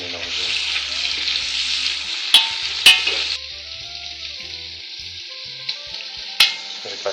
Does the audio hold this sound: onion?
yes